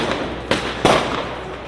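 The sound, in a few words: firecrackers exploding during a festival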